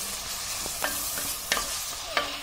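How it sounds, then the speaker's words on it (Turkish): Ground beef and onions stirred and sautéed in a pan for cauliflower moussaka, with a steady soft sizzle and a few sharp spoon scrapes against the pan. No one speaks. "Bunu da yaklaşık 10 dakika kavuralım."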